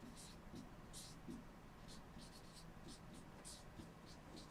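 Pen or pencil writing numbers by hand on paper: faint, close scratchy strokes in short bursts over steady low background noise.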